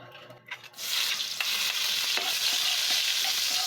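Garlic hits a pan of leftover longganisa sausage drippings with a sudden loud sizzle that holds steady and close, broken by a few scrapes and clinks of a stirring utensil.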